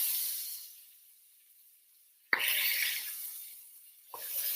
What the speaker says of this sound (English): This cast iron is hot, and that bacon grease is also hot, and it will splatter up at you.